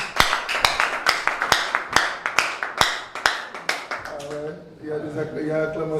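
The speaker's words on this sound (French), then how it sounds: "Est-ce qu'on peut acclamer?" A church congregation claps in acclamation after a prayer: a few sharp, scattered claps ring out for several seconds before giving way to voices rising together.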